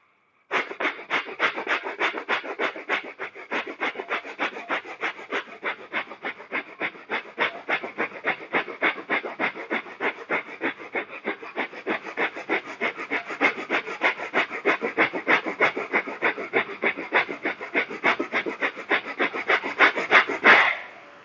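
Rapid, rhythmic breathing during a yoga breathing exercise, quick sharp breaths repeating steadily for about twenty seconds, close and fairly loud with no talking.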